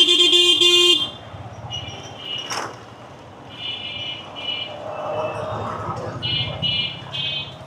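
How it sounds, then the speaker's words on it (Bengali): A loud vehicle horn blasts for about a second in traffic, followed by a rumbling traffic bed with several shorter, more distant horn toots. "এনে হর্ন দিয়ে লাভ নেই, এইভাবেই যেতে হইব আস্তে আস্তে।"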